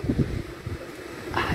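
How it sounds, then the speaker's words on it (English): Strong wind gusting across an outdoor graveyard, buffeting the microphone with low rumbling bursts that rise and fall throughout. "It's very windy, I'm very sorry about my hair, it's blowing around everywhere."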